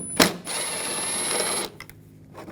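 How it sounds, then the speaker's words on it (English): A ratchet with a T30 Torx socket backs out a screw on a 2004–2009 Audi A4 during radiator and condenser fan replacement, a sharp click at the start then a steady close buzzing whir for over a second before fading to quiet. "Using a T30 socket, there's a screw right here. Take that one out."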